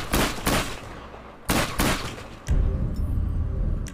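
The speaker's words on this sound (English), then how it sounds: "Heavy shotgun." Heavy shotgun from a gun sound mod fires three loud, booming blasts about a second apart, each trailing off into a rumbling echo.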